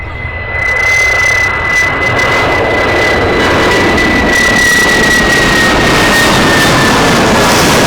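A British Airways jet airliner taking off at Brussels Airport, its loud roaring engines rising and holding steady with a high whine, heard close and continuous throughout.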